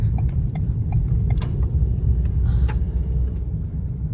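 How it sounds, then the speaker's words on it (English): A 2022 Ford Maverick with transmission problems slowing to a stop, a continuous low road rumble and engine drone heard from inside, with scattered small clicks and knocks over it. "I'm gonna kind of stop kind of fast so I can shift, downshift."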